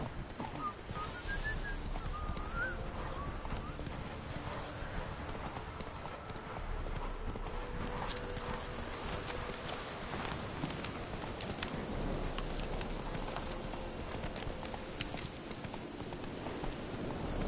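The horse Roach's hooves clip-clop at a steady walking rhythm in the Witcher 3 video game, close and clear over a busy game ambience of faint background sounds.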